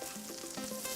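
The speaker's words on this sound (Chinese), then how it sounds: "煎的时候刮铲一定用力，就是贴着那个铁板，用力的铲上来，它才不会粘锅" A metal spatula scrapes hard against a hot iron plate while food sizzles and fries in a busy Guangdong kitchen, giving a loud continuous hiss with short rhythmic scraping strokes.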